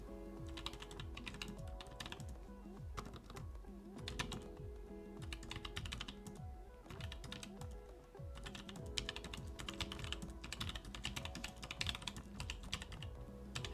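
Steady, rapid typing on a prototype mechanical keyboard for the Zerowriter Ink, still missing internal structure, gives a continuous stream of close, somewhat rattly, hollow-sounding keystrokes with no talking.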